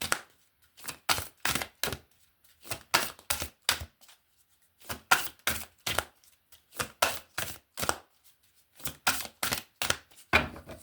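Tarot cards being shuffled by hand, a steady series of short crisp riffling bursts in quick clusters with brief pauses between, close and fairly quiet with no talking.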